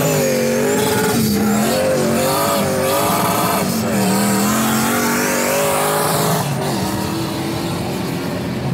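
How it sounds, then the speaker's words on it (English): Fast car racing past on a track, likely a Tesla Model X among others at a real-life kart-style event, with loud continuous engine and tire noise, some squealing and skidding, and a roaring, steady pass lasting several seconds. "That Tesla is so fast."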